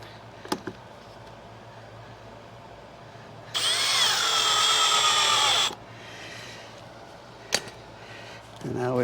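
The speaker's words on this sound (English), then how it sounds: "So just screwing into the old jamb." Power drill driving screws into an old door jamb, one steady, close whine lasting about two seconds, framed by quiet room noise, a couple of sharp taps and faint background voices.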